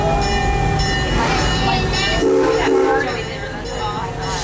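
The Serengeti Express ride train at Busch Gardens departs the station, rumbling and rolling along with a horn sounding midway, loud and continuous, with some crowd noise underneath.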